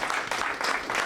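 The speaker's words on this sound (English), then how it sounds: "Give yourselves a round of applause for that." Audience applause at a leadership workshop, a steady wash of many hands clapping at moderate volume throughout the short burst, with no speech.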